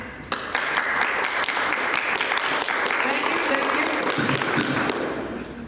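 A crowd claps steadily and loudly for several seconds, the applause dense and sustained before tapering slightly at the end.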